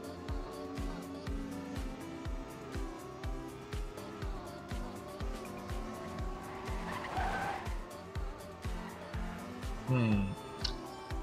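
Race cars in a racing video game whine and drone steadily, with rhythmic engine pulses, shifting pitch and a brief tire squeal near the end, sitting under a commentator's continuous talk.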